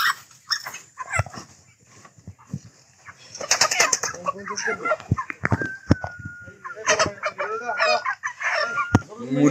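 Broiler chickens being weighed on a machine give scattered clucks and squawks amid flapping wings, bumps and handling clatter, with people talking nearby.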